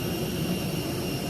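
A steady, loud roar of an aircraft jet engine fills the whole stretch, a constant broadband rumble with a faint high whine, heard near and without voices.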